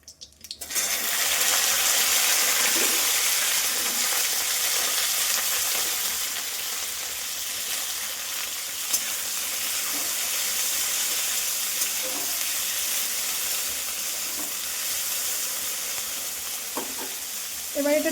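Okra frying in a pan at home, a steady, loud hiss of oil running unbroken for about seventeen seconds, close up, with faint occasional stirring clicks and no voices.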